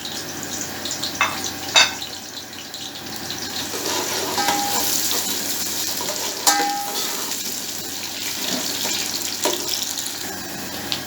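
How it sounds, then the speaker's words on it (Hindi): Chopped onions sizzle steadily in about half a cup of hot oil for a chicken egg biryani, with a continuous frying hiss and occasional clinks and scrapes of stirring, close and even throughout. "इसको मैंने 2-3 मिनट प्याज को थोड़ा सा भून लिया।"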